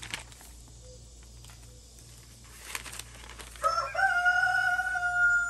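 A rooster crows from under a porch, its long harmonic call rising at the end of the stretch over a steady background of chirping insects, with no talk.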